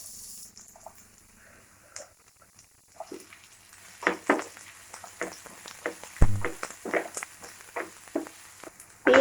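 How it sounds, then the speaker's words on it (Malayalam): A large, finely chopped onion hits hot coconut oil in a pan for a potato curry, starting with a soft hiss and building into an uneven, close sizzle with bursts of crackling and clatter. "അപ്പം നമ്മുടെ എണ്ണ ചൂടായിട്ടുണ്ട്. ഇതിലേക്ക് ഒരു വലിയ സവാള ചേർത്ത് കൊടുക്കാം,"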